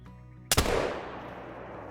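A single loud muzzleloader shot fired at a big buck while hunting in Call of the Wild, a sharp blast at the midpoint followed by a long rolling echo and decay over a quiet ambient background.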